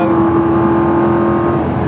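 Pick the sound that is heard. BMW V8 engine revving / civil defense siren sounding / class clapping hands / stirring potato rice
BMW V8 engine revving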